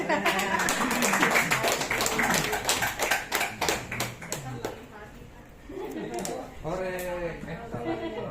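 A group claps rapidly and loudly while voices talk in Indonesian over the applause, which fades as speech carries on alone.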